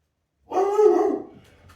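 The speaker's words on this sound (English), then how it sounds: "there's the dog" Molly the dog lets out a single close, drawn-out bark-whine that fades into a brief, quieter whimper.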